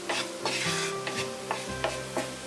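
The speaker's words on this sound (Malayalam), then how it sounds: "മൈദയും കൂടി ചേർത്തിട്ട് നന്നായിട്ടൊന്ന് വഴറ്റിയെടുക്കാം" Maida flour being sautéed in a pan over low heat for an Alfredo pasta sauce gives off a steady sizzle, broken by rhythmic scraping strokes of a spoon stirring it, close up with no talking.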